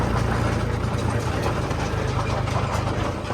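A tractor engine runs on a rough village road, a steady, loud, low rumbling drone with slight knocking throughout and no voices.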